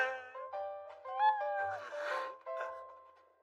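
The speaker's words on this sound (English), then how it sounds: "Aw, look, a kitty." A cat meows in a short, high, tonal sequence of several rising and falling cries, close and clear over a quiet background.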